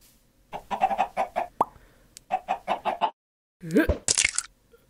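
Chicken clucking in a Minecraft-style live-action animation: two bursts of quick, rhythmic clucks close up, separated by a short pop, followed by a squawking flurry and a brief sharp noise, no talk.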